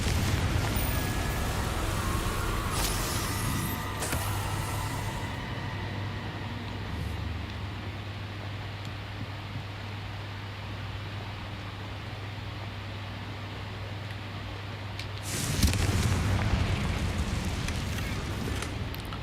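Confringo explosion spells cast in a video game burst as loud, noisy blasts over a steady low hum, one near the start and another near the end, close and forceful with a rumbling wash between them and no talking.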